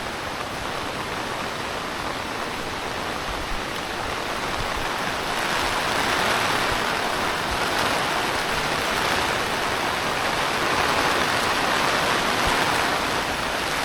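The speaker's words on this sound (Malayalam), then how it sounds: "മഴ വീണ്ടും അടുത്ത് തുടങ്ങി" Rain falling on Karamana Walkway in Trivandrum, a dense, even hiss of drops that grows slightly heavier about halfway through and continues steadily without voices.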